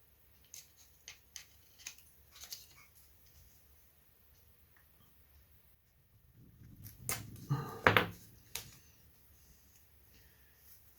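A blade cutting through a balsa wood stringer for a model aircraft gives faint, sparse clicks and ticks, then a louder burst of scraping and snipping near the end, close up in a quiet workshop.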